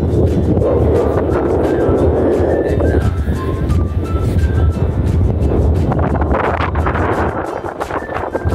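Wind sweeps through Campsite Abaca in Mabini, Bohol, Philippines, near a dam, as a steady, loud, buffeting rush and low rumble across the microphone that lasts throughout, easing slightly near the end.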